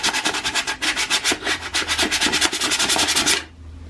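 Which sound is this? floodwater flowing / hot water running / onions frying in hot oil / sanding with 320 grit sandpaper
sanding with 320 grit sandpaper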